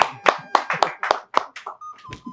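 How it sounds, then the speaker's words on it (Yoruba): Short burst of studio audience clapping for the editor on a Yoruba-language game show, several loud sharp claps in quick succession that thin out toward the end, with a brief tone near the close. "ẹ bá mi fún olóòtú ní àtẹ́wọ́"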